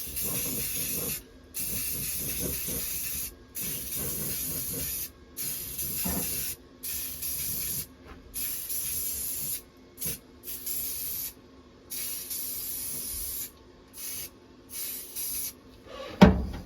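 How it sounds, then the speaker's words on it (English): A can of rust-prevention spray paint hisses onto the floor panel of a 1971 Chevy C10 pickup in a steady series of close bursts with brief breaks between them. "We're just going to spray it on there just to keep it from rusting"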